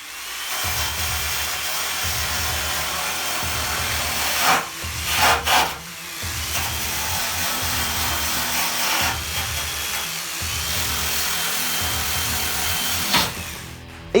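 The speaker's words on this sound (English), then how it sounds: "I'm getting rid of any loose surface rust" An abrasive tool strips loose surface rust from the bodywork of a Classic Mini Cooper Sportspack with a loud, steady grinding hiss. The tone pulses in a regular rhythm as the tool sweeps back and forth, with a few sharper scrapes along the way.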